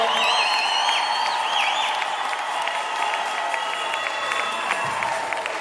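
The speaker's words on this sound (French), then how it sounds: "Applaudissez pour lui." A church congregation at Rocher Tabernacle in Goma, DR Congo, applauds and cheers loudly and steadily, with whoops and high whistles rising over dense clapping throughout.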